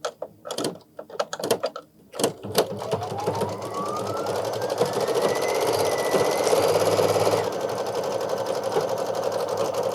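An embroidery machine stitching designs on a Kimberbell mug rug runs steadily and fast with a continuous whirring, rhythmic needle hum after a few clicks and handling noises at the start.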